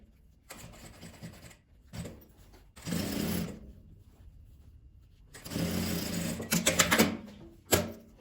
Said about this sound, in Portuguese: E na hora de costurar o zíper, você fecha ele um pouco, né, pra passar essa costura.